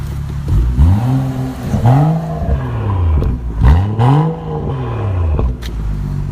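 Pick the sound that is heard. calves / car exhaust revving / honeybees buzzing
car exhaust revving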